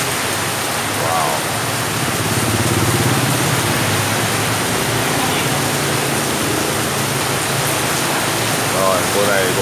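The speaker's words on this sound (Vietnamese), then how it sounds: "Cơn mưa này thì dự kiến sẽ rất là lớn" Heavy rain pouring over a Saigon street, a dense steady hiss filling the scene with faint traffic underneath and a voice talking at times.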